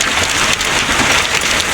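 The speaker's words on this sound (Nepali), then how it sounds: "असिना पनि गाडीभित्रै आइरहेछ पुरा ट्याक ट्याक्के" Dense, steady pattering of hail drumming on a car body, with hailstones coming in through an open window onto the seat, loud and continuous with no voices.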